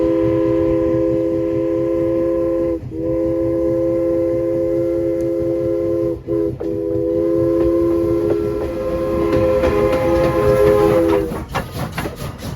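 A steam train at the Strasburg Railroad sounds a long chorded whistle in several sustained blasts, loud and near, with brief gaps, then rumbles and clanks as the cars roll past at the end.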